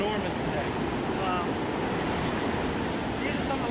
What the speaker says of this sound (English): the reason I brought you out here is because the waves are absolutely enormous today